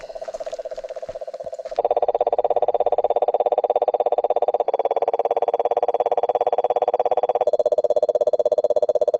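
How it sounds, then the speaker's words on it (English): Frogs croaking at night at a camp on Cape York, Australia: a loud, steady, rapid pulsing chorus that runs almost unbroken, close to the microphone, with no talk over it. "Let's go frog hunting."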